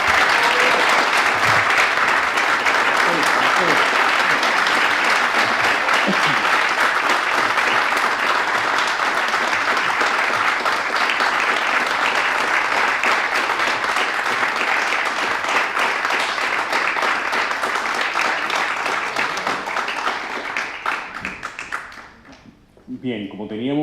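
A large audience gives Don Santiago a big round of applause, a dense, loud, sustained clapping that continues steadily for over twenty seconds before thinning and tapering off at the end.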